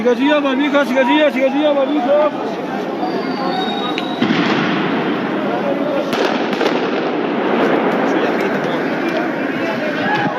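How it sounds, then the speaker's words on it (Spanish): Police firing tear gas at protesters in La Paz, Bolivia, sharp bangs punctuating a steady roar of crowd noise, with people shouting and talking loudly nearby. "desde las ventanas están disparando la policía, gases lacrimógenos."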